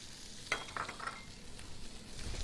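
Garlic, cherry tomatoes and pepperoni go into a hot pan with a soft sizzle and a few light clinks and stirs, fairly faint and close, with no talking.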